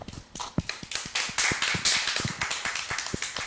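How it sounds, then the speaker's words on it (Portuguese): A few people clapping in a television studio, with crisp, separate hand claps in an uneven rhythm that sound close and fairly sparse over a few seconds. "E um aplauso para o Paulo César Pereira."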